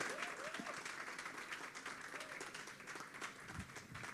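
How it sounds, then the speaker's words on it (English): An audience at a business event applauds after a speaker finishes a talk, steady dense clapping filling the room throughout, with faint voices briefly audible underneath. "A round of applause"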